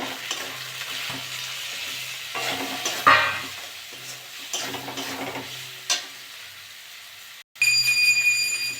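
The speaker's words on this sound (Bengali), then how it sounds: "মশলাটা কষে নেবো আমি" Spice masala with chopped tomatoes frying and being stirred in a pan for aloo dum, a steady close sizzle with scraping stirs throughout, a brief pause near the end before the sizzling resumes loudly.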